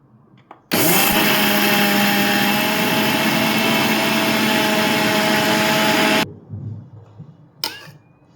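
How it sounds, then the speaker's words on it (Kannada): A mixer grinder grinding dry rice without water roars loudly and steadily for several seconds, then cuts off abruptly, leaving faint clatter afterward. "ಇದಕ್ಕೆ ನಾನು ಸ್ವಲ್ಪ ಕೂಡ ನೀರು ಹಾಕಲಿಲ್ಲ ನೀರು ಹಾಕದೆ ಗ್ರೈಂಡ್ ಮಾಡ್ತೇನೆ"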